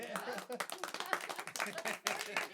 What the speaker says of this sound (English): We're trying to clap some kind of melody or something